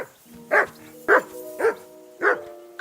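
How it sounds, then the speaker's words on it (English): A dog in the video game Kingdom Come Deliverance 2 barks four times at a steady, evenly spaced pace, each bark sharp and fairly close, over a low background hum. "That barking was a pain in the ass."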